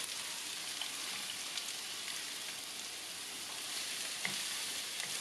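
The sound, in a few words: onion and bell pepper frying in hot oil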